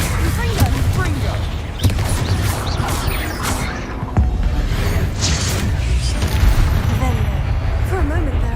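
Confringo fire spells exploding in Hogwarts Legacy gameplay, a dense run of crashing bursts and booms with whooshes over steady battle noise, sharp hits near 1.8 and 4.2 seconds, with talk and game voices mixed in.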